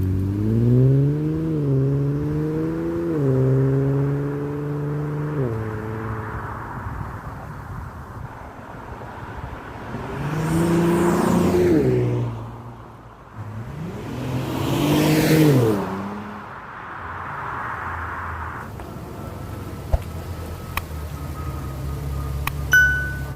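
Infiniti Q50 3.0T fitted with AMS intakes on a test drive, the engine revving up through gears with rising and falling pitch, then swelling in two loud surges of acceleration before settling into a steady cruising hum.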